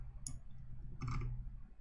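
Two quick, close computer mouse clicks, a double click about three-quarters of a second apart, over a low steady hum.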